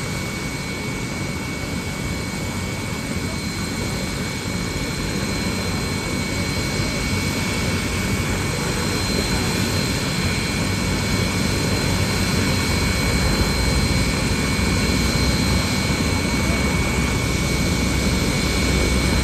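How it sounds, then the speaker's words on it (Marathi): A helicopter giving joy rides roars loudly and steadily nearby, a continuous dense engine and rotor drone with a high whine, no talking over it. "आज प्रत्यक्षात बघतोय समोर हेलिकॉप्टर एवढ्यांदा हवेमध्ये उडताना"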